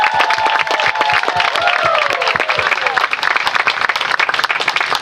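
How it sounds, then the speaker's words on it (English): A crowd at an outdoor Juneteenth friendship festival breaks into loud, sustained applause, with dense clapping and some cheering throughout. "Can we all give Steph and Hale a round of applause for putting this together?"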